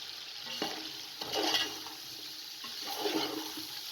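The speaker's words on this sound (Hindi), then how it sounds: "तमाम चीज़ों को अच्छे तरीके से मिक्स कर लें" A spoon stirs spiced chicken, masala, garlic, ginger and biryani masala in a cooking pot for an aloo chicken chana pulao, giving a few slow scraping, sizzling strokes that swell and fade over a steady frying hiss.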